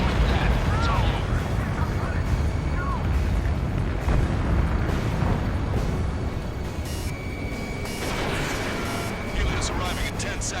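Missile impact explosion in the video game Ace Combat 7, a heavy, sustained rumbling blast with booming bursts, mixed with game voices and bright electronic tones.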